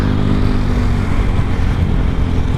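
Carbureted motorcycle fitted with a full-system JRC aftermarket exhaust idles close by, a loud, deep, continuous burble with a steady low throb and no talk over it.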